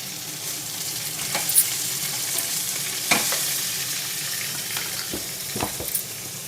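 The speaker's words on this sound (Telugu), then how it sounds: "తాలింపు వేగినాక మనం శనగలను వేసుకొని కలుపుకోవాలి" Boiled chickpeas stirred into a sizzling tempering of green chillies and curry leaves in a pan, a steady frying hiss broken by a few scraping stirs and clinks, with no talk.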